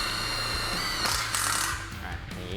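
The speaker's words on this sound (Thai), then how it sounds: "ตัวนี้เราก็ยิงเข้าไปได้เลยเป็นสกูยิงเหล็กอยู่แล้วนะครับ" An INGCO 20V cordless impact driver set to its highest setting drives a steel self-drilling screw, making a loud, close, continuous whirring hammer with rattling impacts that briefly intensify.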